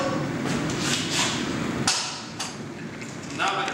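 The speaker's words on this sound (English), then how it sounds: "I'm going to press the two actuator buttons on the top of the tool. Until the tool comes to a stop, release the actuator buttons." Pail lid closing tool running after its two actuator buttons are pressed, a steady loud mechanical churn with a sharp clunk near two seconds, then continuing at a slightly lower, uneven level until the end.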